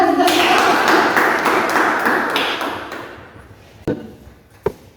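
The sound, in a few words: classroom applause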